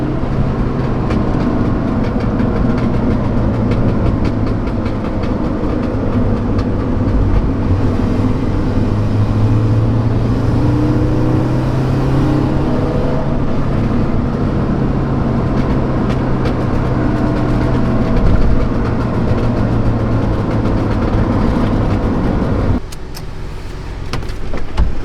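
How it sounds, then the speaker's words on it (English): Tuned Honda car engine with a burble exhaust tune and two-step, a steady loud low drone with rumbling texture throughout, briefly dropping off near the end. "you can hear the burble tune."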